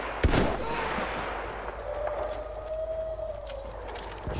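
One sharp, loud gunshot cracks in the Battlefield 1 video game, set in the Gallipoli campaign. Fainter distant shots and a thin whistling tone follow over a low battlefield rumble.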